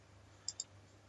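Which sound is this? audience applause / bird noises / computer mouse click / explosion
computer mouse click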